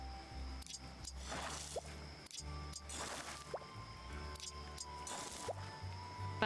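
Watering plants in Hello Kitty Island Adventure: soft repeated drips and squishy splashes of water recur every second or so over a steady low background game tone, with no talk.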